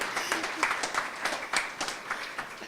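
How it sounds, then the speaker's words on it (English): Audience at an award ceremony for teaching excellence applauds steadily, a dense patter of many hands clapping with uneven peaks, fairly near, with no talk over it. "Yeah, let's clap it up."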